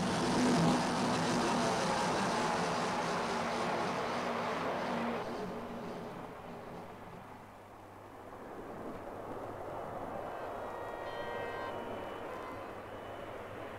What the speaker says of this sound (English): The Phantom will land aircraft carrier style. Its emergency landing hook must link up with a steel wire stretched across the runway.